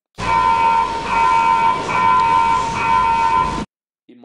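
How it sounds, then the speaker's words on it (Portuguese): A trading platform's price alarm sounds as a steady electronic tone with harmonics, held for about three and a half seconds at constant loudness, then cuts off abruptly into near silence. "O alarme acabou de soar aqui"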